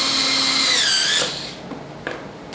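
A power drill drives screws through wooden channels on a homemade wooden pinball machine. The motor whine rises in pitch for about a second and then cuts off, followed by a couple of faint clicks and knocks.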